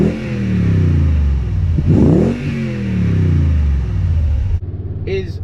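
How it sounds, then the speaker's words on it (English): A 2020 Toyota Tundra TRD Pro pickup with TRD dual exhaust revs into a deep, loud exhaust growl, rising and falling, then drops off to a lower rumble as a voice briefly starts. "It gives you a great growl when you get onto the gas pedal."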